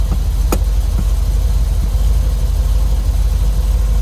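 The engine of a 1969 Chevrolet Corvette Convertible idles steadily with a low, even rumble that holds throughout, broken by a couple of brief clicks near the start.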